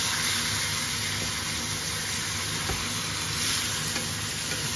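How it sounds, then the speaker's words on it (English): A tomahawk ribeye steak sizzles loudly and steadily in a pan while butter is basted over it with garlic, a dense continuous frying hiss with no talk. "Is that a lot of butter basting?"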